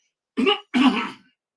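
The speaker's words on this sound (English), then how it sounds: "Let me just clear my throat." Someone clears their throat in two short, gruff bursts, close and fairly loud, followed by quiet.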